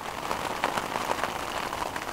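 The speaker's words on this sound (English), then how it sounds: "And it's raining, and it's too windy to go canoeing." Rain falls steadily at a big, windy northern lake on a canoe trip, a soft, even patter of drops on a surface with scattered sharper taps, fairly faint and without talking.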